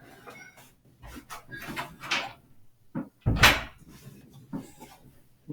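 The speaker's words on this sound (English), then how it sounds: "And let me close the door." A door swings shut with one solid, loud thud, surrounded by scattered knocks and handling noises.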